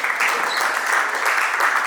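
A crowd at a youth leadership camp closing ceremony applauds steadily as a group comes forward, a dense, continuous wash of clapping filling the room.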